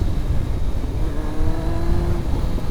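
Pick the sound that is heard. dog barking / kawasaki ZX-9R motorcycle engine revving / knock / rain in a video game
kawasaki ZX-9R motorcycle engine revving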